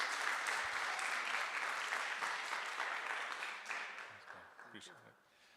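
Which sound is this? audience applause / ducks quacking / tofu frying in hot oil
audience applause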